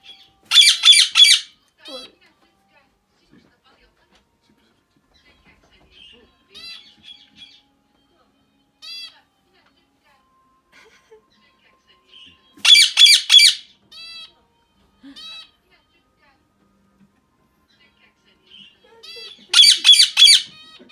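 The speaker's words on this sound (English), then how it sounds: "What's the name of that bird?" A pet bird lets out loud, harsh squawks in three bursts spaced several seconds apart. Softer chirps and quiet calls fill the gaps, with no one talking over them.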